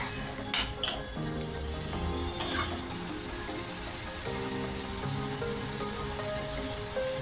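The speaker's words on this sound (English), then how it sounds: "I'll cook the tomatoes for 2 to 3 minutes." Chopped tomatoes cook in hot oil for a chickpea masala, giving a steady close sizzle with a few clattering stirs near the start, then an even frying hiss to the end.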